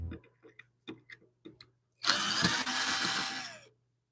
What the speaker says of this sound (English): now I'll unscrew this.